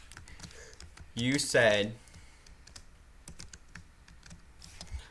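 Computer keyboard typing while entering Visual Basic 2013 code, a run of light, fairly close clicks and taps around a brief burst of speech.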